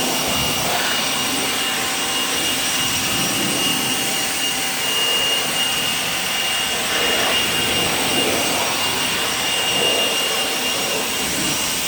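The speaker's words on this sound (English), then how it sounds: "I grab a blower and I blow all the water from everywhere" A blower pushes water out of a car's engine bay during detailing, making a steady, loud rushing roar that holds for the full length without letup or talk.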